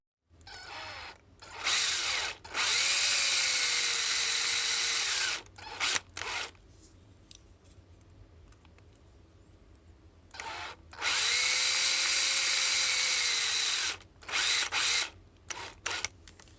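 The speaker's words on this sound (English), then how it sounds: "We'll start the process by drilling a small pilot hole in each of the posts." A power drill whines in long bursts drilling small pilot holes in the posts of a diecast Shelby GT500 model car, winding up and down with short pauses, then runs again for a second stretch, close and loud.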